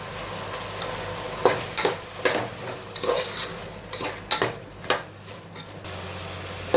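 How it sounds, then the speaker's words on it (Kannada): Tomato, mixed vegetables and ginger-garlic paste sizzling in oil in a pan, with a steady fry hiss punctuated by repeated clinks and scrapes of a spoon stirring against the metal, no voices. "ಇದು ಟೊಮೊಟೊ, ತರಕಾರಿ, ಶುಂಠಿ ಬೆಳ್ಳುಳ್ಳಿ ಪೇಸ್ಟು ಎಲ್ಲ ಸ್ವಲ್ಪ ಚೆನ್ನಾಗಿ ಫ್ರೈ ಆಗಲಿ"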